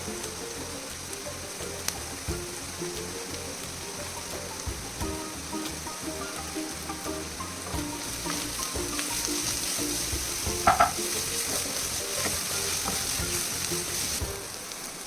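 Sliced onions for chicken biryani fry in oil with crushed ginger, garlic and kanthari chili, a dense continuous sizzle and crackle that stays loud and close throughout, with a few sharper pops.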